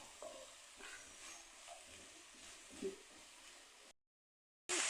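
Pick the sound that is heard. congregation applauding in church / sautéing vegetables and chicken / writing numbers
sautéing vegetables and chicken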